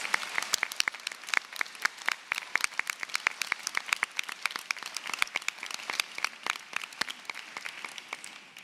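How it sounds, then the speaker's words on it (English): Sustained applause from a commencement audience honoring Master of Education graduates at a 2019 university ceremony, dense clapping from many people with crisp, close individual claps scattered across the whole stretch. "Can we please get a round of applause for all of our Masters of Education graduates?"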